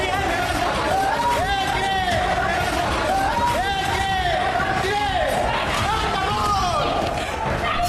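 A large crowd storms the prime minister's residence in Bangladesh, with a dense roar of many voices, shouting and chanting, steady and loud throughout, with thuds and bangs scattered through the din.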